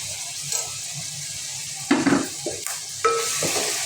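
Ginger garlic paste from a large piece of ginger and ten garlic cloves sautéing in a pan for a Kerala-style chicken curry, a steady sizzle broken by a few louder scrapes and clatters of a spoon against the pan.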